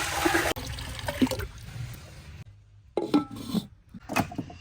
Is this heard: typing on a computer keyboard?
no